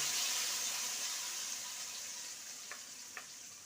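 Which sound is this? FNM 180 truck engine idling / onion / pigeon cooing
onion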